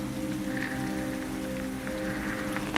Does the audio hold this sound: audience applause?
no